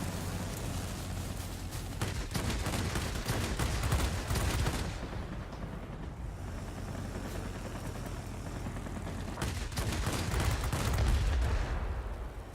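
Rapid aircraft cannon fire from a Soviet Yakovlev Yak-3T fighter in World of Warplanes, dense bursts over a constant droning engine, loud throughout with a brief lull midway before the firing resumes.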